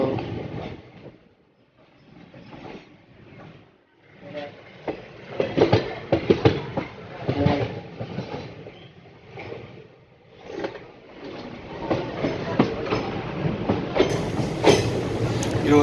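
A passenger train on the Tiruchchirappalli to Pudukottai line pulls away and runs on its rails, giving a loud, steady rumble with rhythmic wheel clatter that builds over time.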